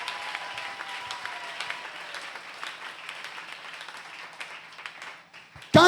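A church congregation claps and cheers in praise, with sustained applause and scattered shouts carrying on steadily before ending abruptly.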